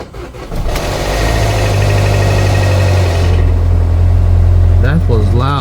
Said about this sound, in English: This loud rattling on startup could be a failing timing chain tensioner